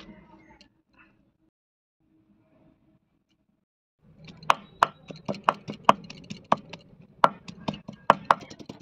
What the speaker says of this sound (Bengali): আর এদিকে এঁচোড়ের তরকারির জন্য আমি একটু আদা রসুন বেটে নিচ্ছি।